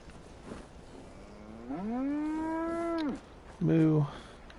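A cow in Fallout 4 gives one long, loud, rising moo, then a shorter second low call, over a soft background.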